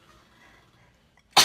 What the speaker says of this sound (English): All right, I feel a sneeze coming on,